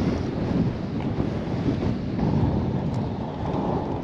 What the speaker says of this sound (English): Once you walk past the tree line, that's whenever the wind kicks in.